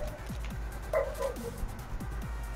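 Dog barking in the shooter game CrossFire: several short yips and barks in quick succession, fairly close and moderately loud over a steady low game ambience, with no talk.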